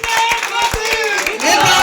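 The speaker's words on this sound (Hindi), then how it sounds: "जोरदार तालियां" Applause rattles through a crowd at a night election rally, a brief loud burst of clapping mixed with raised voices.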